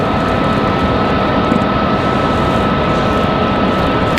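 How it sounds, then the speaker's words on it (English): A Boeing 757 departs Raleigh-Durham International bound for Charlotte, its jet engines a loud, steady, broadband roar that holds evenly throughout with no voices. "Here comes our 757 off to Charlotte."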